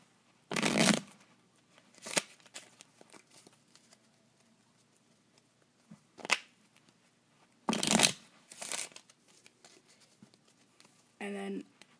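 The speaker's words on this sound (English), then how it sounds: "I'm gonna shuffle this deck a couple times." A deck of playing cards being shuffled, with several brief riffling bursts separated by quiet gaps, fairly close and not loud.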